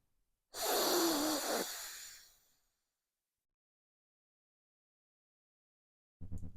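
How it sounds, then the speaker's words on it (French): A single deep, loud inhalation drawn through the nose during a breathing exercise lasts about two seconds and fades into silence, followed near the end by a brief breathy sound. "Et prends une grande inspire."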